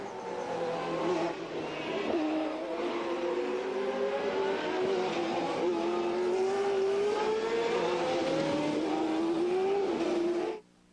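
Indycar race cars at the 1990 Toronto Grand Prix scream past in a continuous loud roar, engine pitch sliding up and down through gear changes for about ten seconds before cutting off abruptly.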